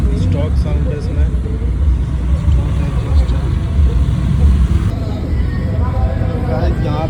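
Suzuki Hayabusa motorcycle with its stock exhaust, a loud, steady low engine rumble that holds throughout, mixed with crowd chatter and voices nearby.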